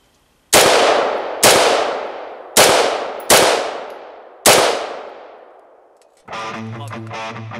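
Five sharp carbine rifle shots ring out about a second apart, each loud and close with a long decaying echo, followed by a burst of bright tonal music at the end.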